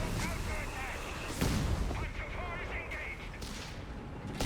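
Mortar fire in the strategy game Company of Heroes 3 as rounds land on grenadiers, with a heavy thump and a burst near the middle over a dense backdrop of battle noise, while a caster talks over it.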